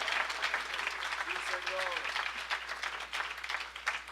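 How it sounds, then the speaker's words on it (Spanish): Church congregation applauding during a sermon, a lively wash of clapping from many people with voices mixed through it, fairly close and continuous. "Den un aplauso a Dios en este día, por favor."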